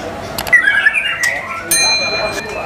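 A murai batu, or white-rumped shama, calling: a few sharp, close whistled chirps and squawky notes in quick succession over light background noise.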